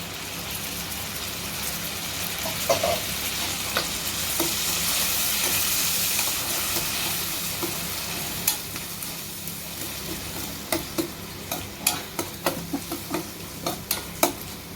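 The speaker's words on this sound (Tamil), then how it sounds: "வெங்காயத்தை நல்லா பொடி பண்ணி சத்தம் கேட்கணும்." Chopped onions with ginger garlic paste fry and sizzle in oil for an aloo biriyani, a steady close hiss punctuated in the later half by sharp clicks and scrapes of stirring.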